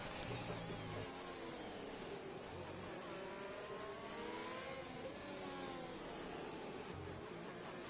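A Ferrari racing car in a racing video game, its engine droning at high revs and rising in pitch as it accelerates, steady and loud throughout with no talk over it.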